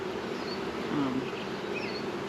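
Honey bees hum steadily around an opened hive during a swarm check in a national park apiary, a constant close drone with no voices over it.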